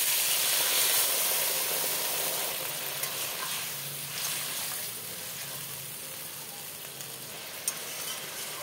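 Water poured onto sautéed vegetables in a hot pan, a broad steamy hiss and sizzle that holds steady and slowly eases, close by with a couple of faint clicks and no talking.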